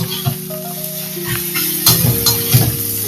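Spice powder sautés in a pan with a steady sizzle in a home kitchen, stirring scrapes and clinks rising in two louder bursts, while faint tonal background sound runs underneath.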